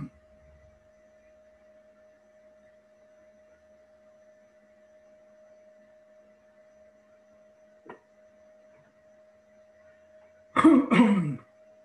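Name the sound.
coughing fit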